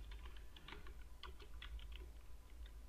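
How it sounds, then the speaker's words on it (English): Computer keyboard keys tapped while entering text into an Outlook text box, a quick run of light clicks, faint and close over a low steady hum, no talking. "Now you can type your text."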